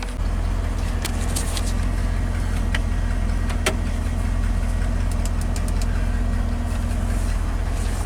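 A 1988 Ford F350 dump truck's V8 runs on a test drive after a misfire and low-power fault, giving a loud, continuous low engine drone with a rhythmic pulsing throb and occasional sharp ticks and clatters over it.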